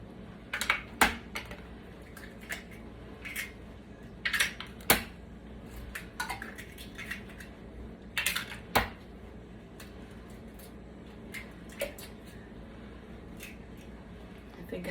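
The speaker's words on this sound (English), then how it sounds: "We're gonna crack 4 eggs." Four eggs cracked one after another into milk for a breakfast casserole, sharp little taps and cracks in small clusters across the clip over a quiet kitchen background, no voices present.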